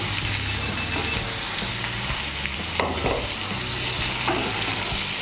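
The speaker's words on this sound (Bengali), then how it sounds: "পেঁয়াজটাকে হালকা একটু ভেজে নিয়েছি" Sliced onion frying in a pan for a Bengali okra dish, with a steady loud sizzle and intermittent scraping stirs of a spatula throughout, no talk.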